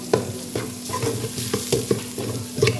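Pork-head curry with no coconut milk being stir-fried right in the pot, a utensil scraping and knocking against the metal in an uneven rhythm of close, sharp strokes over a soft, steady sizzle.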